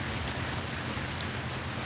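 Steady rain falls in a dense, even hiss with scattered brighter drop hits, close and continuous with no voices.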